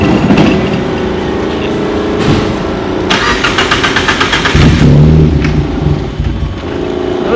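The Deep Orange 3 car's engine cranks and catches around the three-second mark, then settles into a steady, close mid-pitched idle with a few light revs and no voices.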